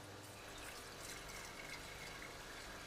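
Yellow liquid poured from one vessel into another, a steady continuous wash of liquid noise lasting throughout, fairly faint and even, with no voices.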